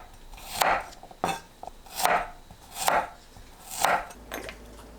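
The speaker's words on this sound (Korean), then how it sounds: "마늘은 편으로 썰어주세요." A knife slices garlic into thin pieces on a cutting board, giving about five close, crisp rhythmic cuts spaced under a second apart, each ending in a soft knock on the board, with no talking.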